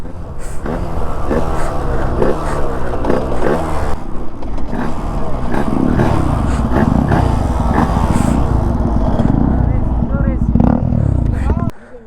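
A Yamaha RX135 two-stroke motorcycle engine runs throughout, its loud buzzing drone rising and falling, with someone talking over it nearly the whole time.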